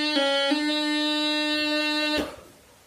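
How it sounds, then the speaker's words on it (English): Bagpipe-style throw on D ornament started from low G: a steady reedy sustained tone with a constant drone, two quick note flicks near the start, then a cutoff as the sound fades away, played alone. "Okay, so throw on D from low G,"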